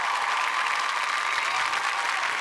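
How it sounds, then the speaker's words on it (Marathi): Sustained applause from a theatre audience greeting the actors of a Marathi stage play, a dense, steady wash of many hands clapping at full volume throughout. "नवी कोरी जोडी अभिराम म्हणजेच सायंकित कामत यांच्यासाठी टाळ्या"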